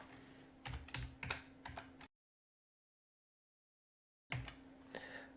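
Bursts of quick keystrokes clatter on a computer keyboard as an SQL expression is typed, close and clear, broken by a stretch of total silence before the typing resumes.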